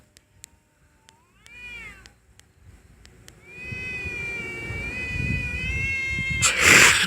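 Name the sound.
cats fighting, meowing and caterwauling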